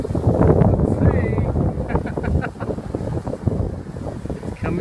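Steady wind noise buffets the microphone as an Onagofly drone comes in to auto-land in gusty conditions, a continuous rough rush with low rumble throughout, with a person talking over it.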